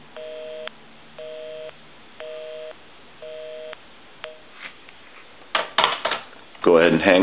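A busy signal on a telephone line pulses on and off five times in an even cadence, followed by clicks and rustling handling noises.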